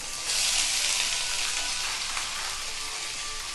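Onion sizzling steadily in hot oil in a pan for egg curry, a bright continuous frying hiss that holds at an even level throughout, with no voices.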